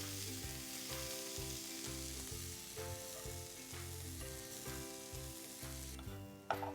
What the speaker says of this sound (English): Stir fry these vegetables just for a minute.